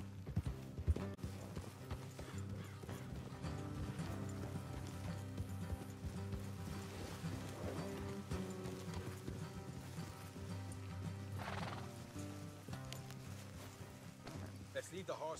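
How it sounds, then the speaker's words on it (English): Horses' hooves clip-clop steadily through a ride in the Red Dead Redemption 2 video game, with game music and ambience under the hoofbeats; speech is faintly present and no clear neigh stands out. "Let's leave the horses here and go the rest on foot."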